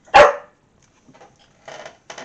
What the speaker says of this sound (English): Puppy's not going to give up, is he?